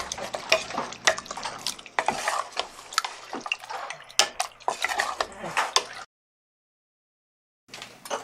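Spoon scraping and clanking against a pot as turmeric and spices are mixed into a chicken and fenugreek gravy, brisk irregular strokes close by, then a sudden stretch of silence before the stirring resumes.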